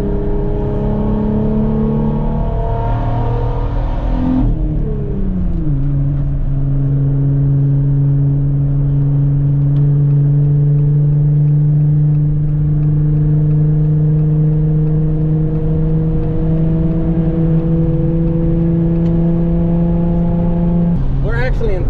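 Lifted 2020 Jeep Gladiator engine pulling steadily in fourth gear at highway speed, a sustained droning note that drops after a shift then holds, with road and wind noise throughout and a person talking over it.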